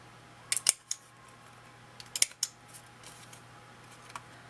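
Paper corners are being rounded for a handmade photo book, producing quiet, crisp snipping clicks in two small clusters a second or so apart, with a lone faint click afterward and no talking.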